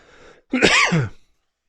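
A single sharp, close cough bursts out after a soft breathy lead-in, then trails off into silence.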